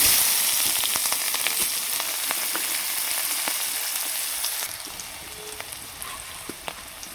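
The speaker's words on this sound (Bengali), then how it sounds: "এবার ওই তেলের মধ্যে একটা শুকনো লঙ্কা, পাঁচফোড়ন, আর এখানে একটা মিডিয়াম সাইজের পেঁয়াজ" Dried chili, panch phoron and a medium onion fry in hot oil with a steady, bright sizzle and scattered crackling pops, the hiss easing slightly partway through.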